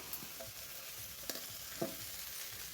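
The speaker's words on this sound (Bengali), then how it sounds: "এবার ধুয়ে রাখা শাকগুলো দিয়ে দিচ্ছি আর এবার চুলার আঁচটা একটু বাড়িয়ে দেব আর ভালো করে নেড়ে চেড়ে দেবো" Washed radish greens sizzle and are stirred in a hot pan over a raised flame, a soft steady frying hiss with a few faint scraping taps, quiet and without talk.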